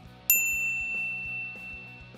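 A single bright notification-bell ding strikes once and rings out with a slowly fading shimmer over a quiet, steadily pulsing background bed.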